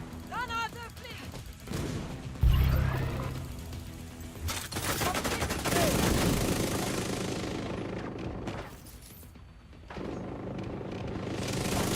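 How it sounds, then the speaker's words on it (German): A grenade blast in the Division 2 video game, a sudden loud low boom partway through a dense stretch of game gunfire and rumbling action, with voices talking over the combat. "Granate fliegt!"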